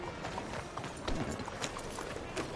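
Horse hooves clip-clop in a steady trotting rhythm in the Bella Sara video game, fairly close and clear with no talking over them.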